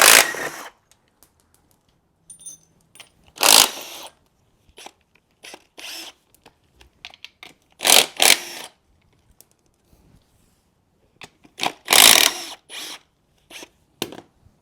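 Bolts coming off the bell housing of a Ferrari F355 Challenge engine under a power tool, heard as several loud, separate whirring bursts of a few seconds each, with quieter clicks and handling noises in between.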